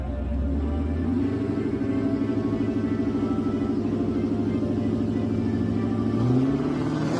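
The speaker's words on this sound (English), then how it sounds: "Launching down the track, drove straight, felt really fast in the right-hand lane" A nitrous-fed no-prep drag race car on hard tires with a stick shift pulls down the track, a loud continuous engine roar with a steady rising drone and a brief surge near the end, heard up close.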